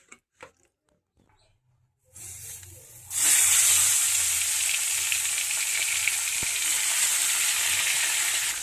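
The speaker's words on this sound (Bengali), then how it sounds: "এবারে মাছগুলোকে আমি তেলে ভেজে নেব। এটা আমি সর্ষের তেলেই ভাজছি।" Tangra fish sizzling in hot mustard oil, a loud, steady frying hiss that bursts in after a few quiet seconds and keeps crackling close by, with a brief splatter pop along the way.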